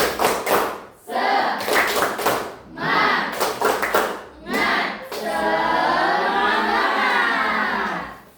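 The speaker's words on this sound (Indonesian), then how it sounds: "Sekali lagi. Tepuk semangat." A group performs the rhythmic 'tepuk semangat' spirit clap during an Islamic education teacher-training class, with several loud, patterned bursts of hand claps followed by the group chanting together in unison.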